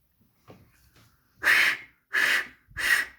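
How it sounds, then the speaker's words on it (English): A man pants breathlessly, with a few faint short breaths followed by three loud, rasping exhalations in a regular rhythm, close and alone. "He panted."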